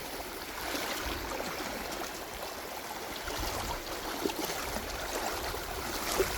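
Steady broadband rushing of flowing, waist-deep stream water in northwest Arkansas, continuous and fairly close, with no talking.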